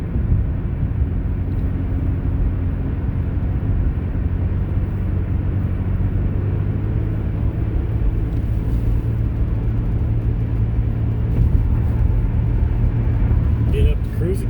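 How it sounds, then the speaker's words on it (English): A car pulling up a highway on-ramp onto Route 315 north, with a steady, loud engine and road rumble that builds gradually and carries on throughout. "Get up to cruising speed here."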